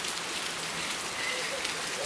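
Steady rain patters on a surface at night, a dense even hiss close by with no talking heard.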